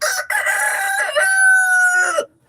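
A rooster crows once on a farm, a loud, close call that holds a long tonal note before cutting off cleanly, with no talk over it.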